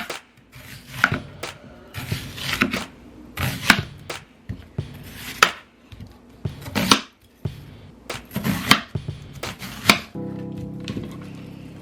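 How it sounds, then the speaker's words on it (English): Onions are sliced with a kitchen knife on a cutting board in a run of sharp, close chops that come in quick clusters of about a dozen strokes before stopping. "I'm just gonna cut them in slices."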